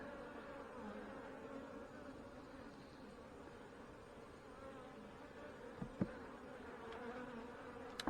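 Honey bees buzz around an opened hive at a fireweed site, a steady low droning swarm hum that is faint and continuous, with a couple of small knocks partway through and no talking.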